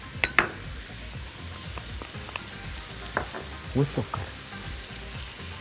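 Meat sizzling in a pot for harira with tomato paste, dried tomatoes and sugar stirred in, a steady fry under scattered spoon scrapes and clinks, with a single brief word spoken.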